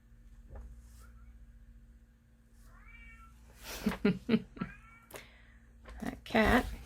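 A cat meows several times, faint and drawn out at first, then a cluster of louder, close, insistent meows, with quiet talk in the background.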